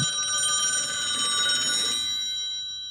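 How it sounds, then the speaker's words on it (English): A telephone bell rings with a bright, trilling tone, fading away over the last second; no voices. "The witness was awakened at 5:30 a.m. by her room phone ringing."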